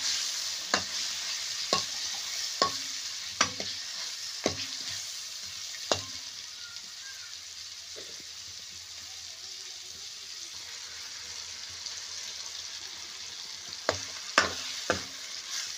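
Bitter gourd pieces sizzle in hot oil in a pan, a steady frying hiss punctuated by sharp clacks of a spatula stirring at a loose, repeating rhythm.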